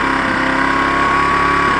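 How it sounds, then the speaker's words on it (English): A Zontes Tiger 125cc Chinese motorcycle engine running steadily close by, a constant buzzing idle with no change in pitch. "I put this in and the bike runs."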